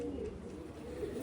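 A pigeon coos softly at home, a low, faint, murmuring call heard close by with no voices over it.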